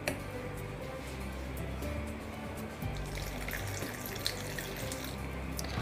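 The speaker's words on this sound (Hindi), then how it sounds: "अब इसमें हम थोड़ा करके पानी ऐड करेंगे।" Water poured a little at a time into gram flour mixed with spices while making Rajasthani pitod: a steady, close trickling and splashing with faint clicks, no talk.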